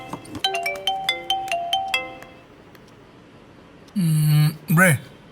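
A phone rings with a bright, repeating melodic ringtone for about two seconds while a conference call is being set up, followed after a short lull by two loud electronic tones.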